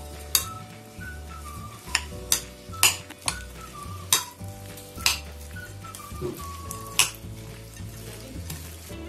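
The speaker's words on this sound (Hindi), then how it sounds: "इसको मिक्स कर लेंगे।" Egg and two spoons of flour being stirred together in a bowl for a chicken tikka bread batter, with repeated sharp clinks and scraping strokes of a utensil against the bowl, close and fairly quiet, with no talking.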